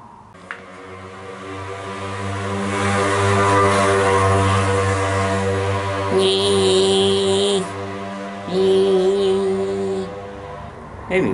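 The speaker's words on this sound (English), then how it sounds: "With that engine just passing." A passing engine drones steadily, swelling to a broad roar midway and then easing off as it goes by.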